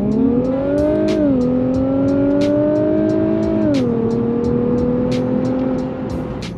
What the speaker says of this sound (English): the launch off this car when you're in drive is, it just hits different with that twin turbo V6